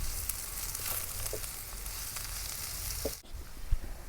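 Green chilies and thinly sliced onions frying in hot oil, a steady soft sizzle with occasional stirring clicks, close and quiet, without talk.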